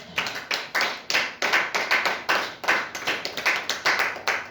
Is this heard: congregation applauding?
yes